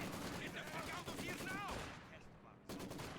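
Bursts of machine gun fire ring out in a Company of Heroes 2 battle, rapid crackling volleys mixed with other battle noise, while a commentator talks over them.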